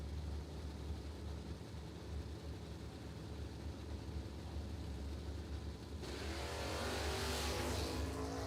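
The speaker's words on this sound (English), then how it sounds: "Big wheelie for Ford" A Chevy II wagon drag car at a footbrake drag racing event idles with a low, steady engine rumble, then launches about six seconds in with a sudden loud, roaring surge of engine noise.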